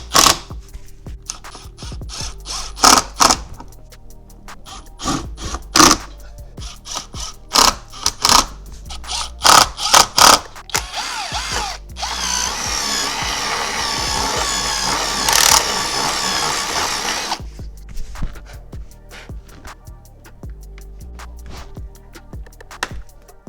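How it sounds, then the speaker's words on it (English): Bursts of a power drill whirring in short repeated runs, then one longer sustained drive, driving screws into a Subaru STI body to fit rear spats, close and loud, with clicks and handling noises between. "take the screws that are provided plus the 2 I added and just drill them right into the holes"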